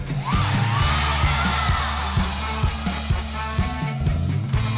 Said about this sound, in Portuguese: O maior grito da sua vida falando eu quero.